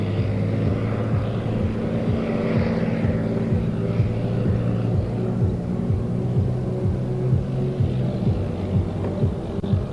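Propeller aircraft of an aerobatic display team fly in formation at an air force show, a steady droning engine roar with a low throbbing hum, moderately near and sustained throughout.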